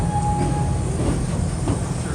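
A Busch Gardens tour train rolls along steadily, its wheels producing a continuous rumbling clatter with a brief squeal near the start, close and fairly loud.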